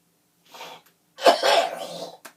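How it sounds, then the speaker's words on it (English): A short throat sound followed by one loud, harsh cough, close and alone, ending with a small breath. "I feel a cough coming."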